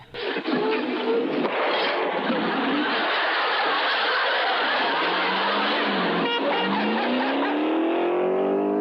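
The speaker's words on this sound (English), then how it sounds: "as a thief bolts out with his stolen car" A stolen car bursts out of a garage in a classic TV series, its engine revving hard and then pulling away with a rising, whining acceleration, loud and close throughout after a sharp opening bang.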